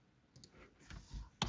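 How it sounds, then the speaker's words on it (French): Soft computer mouse clicks, a few small taps close and quiet against a faint room background, ending with one sharper click. "Je clique 3 fois"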